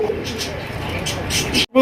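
Low, throaty coos of pigeons at a pigeon market sound close by in a steady murmur, with a brief drop before a voice starts at the end.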